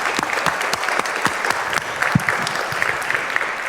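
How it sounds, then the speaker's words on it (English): A conference audience claps warmly for a speaker about to give a talk on broken cryptographic keys; dense, steady applause from many hands, fairly close and filling the room without pause. "give a warm round of applause to Hanno"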